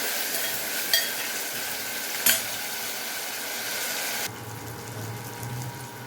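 Tomato frying in the tempering for a greens sambar, a bright steady hiss of sizzling with two sharper clatters early on, then quieter low bubbling once the sizzle drops away near the end.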